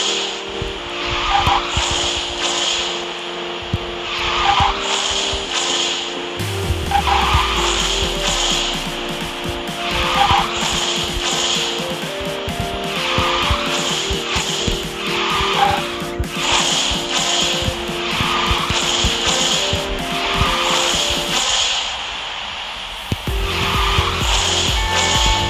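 A car drifting in the mobile racing game QQ Speed Mobile, with repeated loud tire squeals and engine roar over game music, the skids coming in regular bursts across the stretch.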